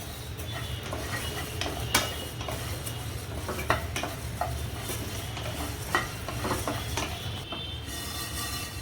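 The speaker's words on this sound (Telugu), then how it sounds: "ఇదండి ధనియాలు కూడా దోరగా వేయించుకుందాము" Coriander seeds roasting in a pan for chicken pickle, a continuous dry rustle and gentle sizzle with repeated scraping and clinks of a spatula stirring against the metal, close and steady.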